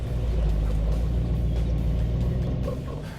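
A Dodge Ram 1500 fitted with an ICON suspension upgrade drives down a dirt road in four-high. A loud, steady low rumble of engine and tires runs close and continuous throughout, with faint rattles on top and no talk.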